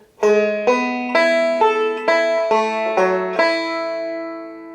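A short banjo phrase of about eight plucked notes rolls along at a moderate pace, with pitches sliding smoothly in places before a final note rings out.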